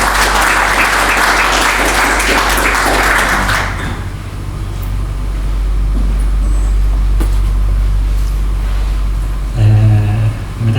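Loud applause from a crowd at the Chevening launch event fills the first few seconds, then fades into a low hum of room noise.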